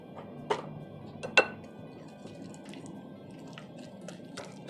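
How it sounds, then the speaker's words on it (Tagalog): A small wire whisk stirs cream cheese batter in a bowl for a no-oven Basque burnt cheesecake. Soft, quiet scraping is broken by a few sharp clinks of metal against the bowl. "Mix lang natin siya hanggang sa mas soften pa siya."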